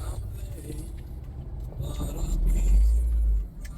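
Cars arrive and park at a family gathering: a low, rumbling engine drone builds to a heavy swell near the end, with voices talking faintly in the background.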